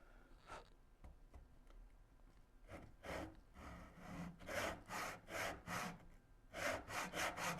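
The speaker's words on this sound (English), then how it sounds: "Tenon saw." A tenon saw cuts wood for a Shaker Enfield cabinet, making rhythmic rasping strokes that start sparse and then settle into a steady back-and-forth, close and fairly quiet.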